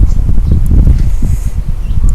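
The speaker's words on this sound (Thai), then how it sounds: "ลมแรงค่ะ" Strong wind roars steadily across the microphone outdoors during home cooking of Korean-style soy-marinated shrimp, a loud, continuous low rumble with gusting texture and no talking.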